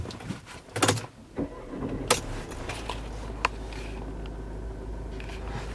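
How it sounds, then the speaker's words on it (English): Electric windows and folding mirrors on a Mercedes B180 CDI turbo diesel work inside the car: brief motor whirs and a few sharp clunks early on, then a quieter hum with a single click, all close by. "So here we have the electric windows and folding mirrors."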